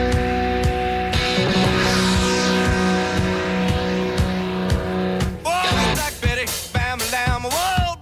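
Race cars at speed on a track during a race, a dense roaring engine blend with rapid rhythmic pulses, then several cars sweeping past in quick succession with rising and falling engine pitch.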